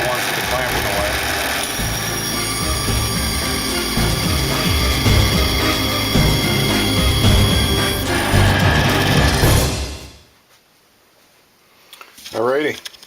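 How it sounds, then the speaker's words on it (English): A bandsaw slices a wooden board for a pen rack, a dense steady whir and cutting noise running for about ten seconds before stopping abruptly, followed by near-silence and a short voice. "cut it on the bandsaw"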